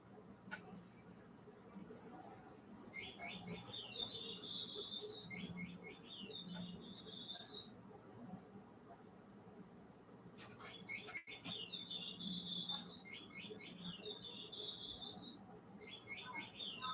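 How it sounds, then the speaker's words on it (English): A pet bird gives two bursts of rapid, high chirping calls, faint and somewhat distant, over a low indoor background rumble. "Yeah, that's a bird."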